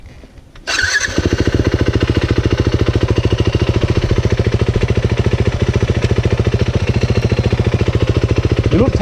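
A 450 dirt bike engine catches after a brief cranking start, then runs loud and close with a fast, even, pulsing idle that holds steady to the end.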